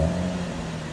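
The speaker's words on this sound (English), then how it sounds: "Camaro RS V6. This is what it sounds like before." A stock-exhaust 2011 Chevy Camaro RS with its 3.6L V6 holds a steady idle-to-rev drone, the engine note settling after a brief higher whine at the start, close and alone with no voices.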